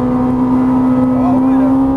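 A Ferrari 458 Italia engine drones steadily on light throttle on a track in Las Vegas, a loud close in-car hum with a strong fixed tone and faint speech underneath.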